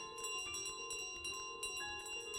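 Bright, ringing bell tones from Untitled Goose Game, several repeated metallic chimes with lingering sustained overtones, faint and clean with no talking.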